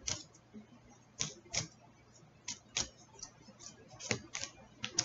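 Tarot cards being shuffled at close range, giving sharp, irregular riffling snaps and flicks in quick bursts over a quiet low hum, with pauses in between.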